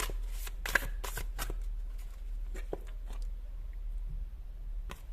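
Tarot cards shuffled and drawn from a deck at a table, a run of quick riffling slaps and flicks up close, then softer scattered card sounds with a steady low hum beneath.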